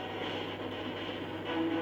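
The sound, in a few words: train locomotives starting to pull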